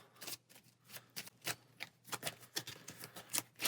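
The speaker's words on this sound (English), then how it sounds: "Always hard to shuffle just a couple cards." A couple of playing cards are shuffled at a tabletop card game, giving quiet, quick papery riffles and taps in an irregular rhythm, with no talk.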